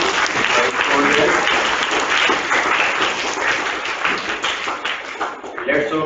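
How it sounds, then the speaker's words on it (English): An audience at a zonal quiz competition breaks into sustained applause for the teams, a dense crackle of hand claps with a voice talking over it. "Let's clap for all of these teams."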